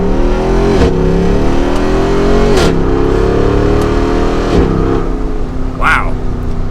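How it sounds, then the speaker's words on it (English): A 2022 Jeep Wrangler Rubicon 392 V8 accelerating at half throttle up to 60, its engine note climbing steadily with three short dips at gear shifts, loud and close from inside the cabin, with no talking. "That was about half throttle getting up to 60."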